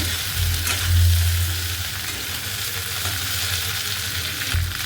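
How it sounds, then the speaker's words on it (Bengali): Okra fries with whole cumin seeds in a hot pan, giving a steady, close sizzle and crackle while it is stirred and tossed, with no talking. "এবার ঢ্যাঁড়সগুলোর মধ্যে দিয়ে দেবো। একবার ভালো করে নেড়ে চেড়ে নেবো।"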